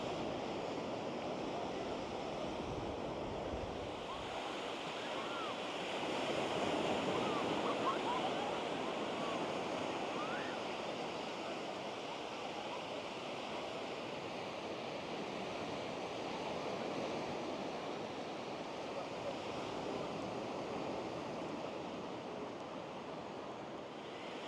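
Choppy sea waves at Ao Manao Beach in Thailand wash and roll in a continuous, soft broadband rush, heard from the shore and mixed with light wind noise.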